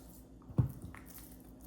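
Hands rub marinade onto a whole chicken for lechon manok, working it over the wings: a single soft, wet squish stands out near the start, followed by faint moist rubbing, close and quiet.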